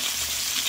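Fish frying in a pan at home for dinner, a dense, steady hiss of sizzling oil heard close up and alone.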